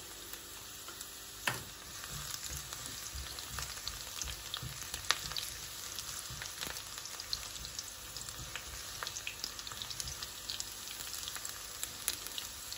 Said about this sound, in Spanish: los ajos se están friendo ya